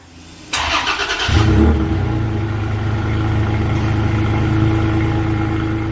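A Toyota Tacoma TRD Off-Road pickup engine with cold air intake and stock exhaust cranks and fires up nearby, revs briefly, then settles into a steady, throaty idle.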